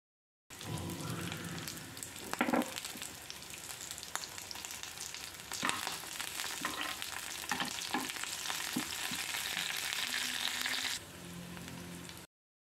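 Sliced onion, green chili and curry leaves fry in hot oil for a masala egg fried rice, giving a steady close sizzle with a few clattering stirs of a spatula against the pan, and no talk.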